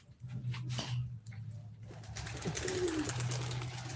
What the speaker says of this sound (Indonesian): Burung berterbangan guys